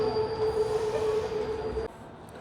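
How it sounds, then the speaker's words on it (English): A longer Riyadh Metro train with extra carriages runs past, a loud steady rumble carrying a sustained wheel squeal tone that drops off sharply as the last cars clear. "Yeah, that's a longer train, isn't it?"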